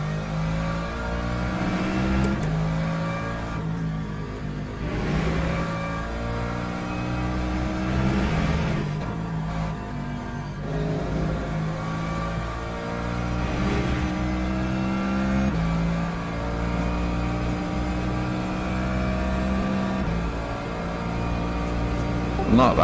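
Steady GT3 race car engine from the sim racing game Le Mans Ultimate, droning continuously through the whole stretch with rising and falling pitch as it laps a track, a voice talking over it.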